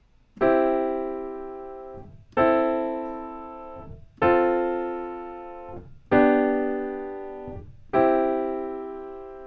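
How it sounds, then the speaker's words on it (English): Five sustained keyboard chords played as inversions, struck about every two seconds, each ringing and slowly fading before the next, moving smoothly with no talking. "if I was to play that same progression using inversions, it might sound something like this"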